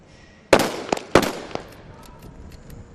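Sniper rifle shots from Dubai Police Academy snipers at a SWAT challenge: two sharp, loud cracks about half a second apart, each followed by a trailing echo, then fainter distant pops.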